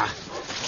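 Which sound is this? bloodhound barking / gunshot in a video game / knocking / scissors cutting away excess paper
bloodhound barking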